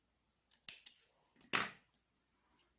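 Scissors snip crochet yarn close by in a few quick, crisp cuts, the last one the loudest, in an otherwise quiet room with no talking.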